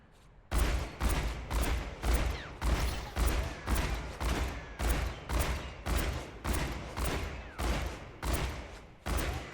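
Cassidy's revolver firing in the Overwatch 2 practice range: a steady, evenly spaced string of about fifteen loud, punchy shots, each with a short ringing tail, heard alone with no voices.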